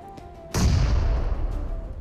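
Grenade blast in a shooter video game: a sudden loud boom at about half a second, followed by a long rumbling low decay that fills the rest of the moment, with no talking.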